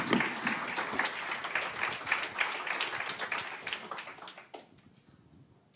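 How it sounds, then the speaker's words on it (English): An audience at a design software event applauds, a dense wash of clapping that holds for about four seconds and then fades quickly to near silence. "can everybody have a round of applause for Takumi, Frederic, and Lionel"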